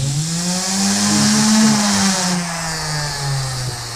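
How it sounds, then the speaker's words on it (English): Power sander running on wood, a loud steady motor whine with a constant drone that holds throughout, close and without talk. "We're gonna sand this section first, and then we'll sand the other section."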